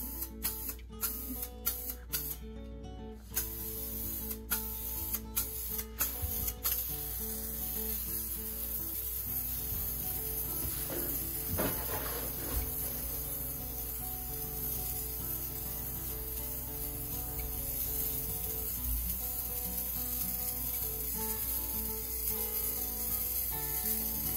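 Aerosol cans of bathtub and tile refinishing coating sprayed in a bathroom, a steady hiss running under background music for most of the stretch, with sharp clicks early on and no talking.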